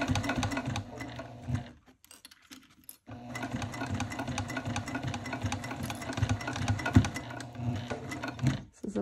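A sewing machine stitching a leather-style clutch wallet hums and clatters in a fast steady rhythm, pausing briefly near the start before running on, close and moderately loud.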